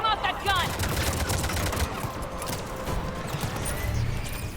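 A mounted gun fires in a war video game, a dense, steady stream of rapid shots that runs throughout, layered with battle noise while voices shout over it.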